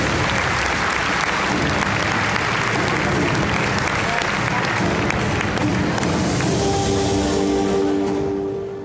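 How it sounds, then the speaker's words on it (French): Circus audience at the Arlette Gruss big top breaking into dense, sustained applause that fills the space evenly, then tapers off and fades at the end as tonal sounds rise underneath. "Voir le public applaudir"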